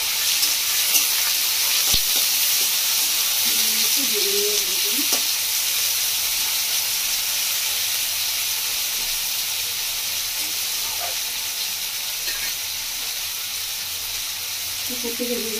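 Green chilli, peeled garlic cloves and two medium onions fry in hot tempering oil, a loud continuous sizzle and hiss with occasional spoon scrapes against the pan throughout.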